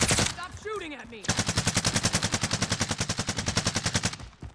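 Video game gunfire rattles in a long, steady automatic burst, loud and close, following a moment of speech.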